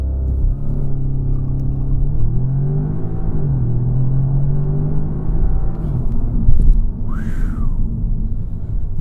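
A 2016 Audi S3 in sport mode with Dynamic drive select, held on the brake for a launch-control start. Its engine rumbles steadily at raised revs with a wavering held tone, loud and close.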